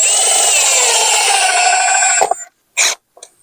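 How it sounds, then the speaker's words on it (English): A power drill drives screws into a Dollar Tree garden stool, a loud close whine running steadily for about two seconds, then cutting off, followed by two short bursts. "So first what I'm going to do is I'm going to put the screws on the top before I get the legs on."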